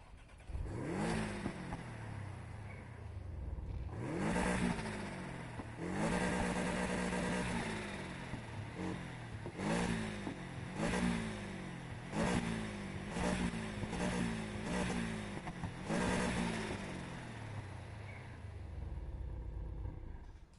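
Volkswagen Beetle drag car from Need For Speed Heat revving hard, its engine rising and dropping in a series of repeated loud pulls and shifts, close and continuous with no talking.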